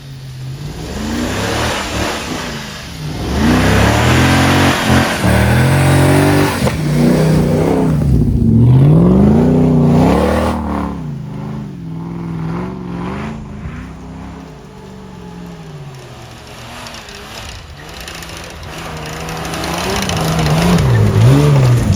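A car engine revs hard in snow, climbing and falling in repeated loud surges that hold strong through most of the stretch before easing and building again, with no talk over it.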